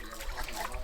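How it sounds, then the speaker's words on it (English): Water from a hose sitting at the bottom of a bucket of sand gushes and churns steadily, close and moderately loud, as the aquarium sand is rinsed. "The hose is in the bottom of the bucket, so it's going to flow"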